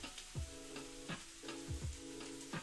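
Squash frying in oil in a pan, a soft continuous sizzle broken by several scraping stirs at irregular intervals, faint and close with no voices.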